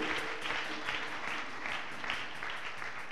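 A church congregation applauds together at a service, a steady dense wash of clapping that holds evenly through the whole moment without voices standing out.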